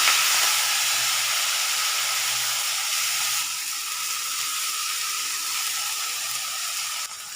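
Fenugreek leaves hit hot oil already holding cumin, garlic and asafoetida, setting off a loud, steady, close sizzle and hiss. The sizzle eases slightly as it goes on, with no talk.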